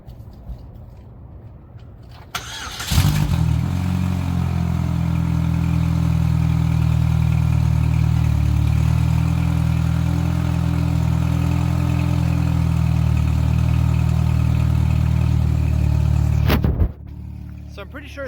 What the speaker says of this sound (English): Especially after the engine is cooled down, it's definitely louder.